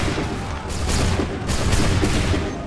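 Musket volleys crack out in Assassin's Creed 3, a dense, loud fusillade of overlapping shots that rolls in several booming waves with no voices over it.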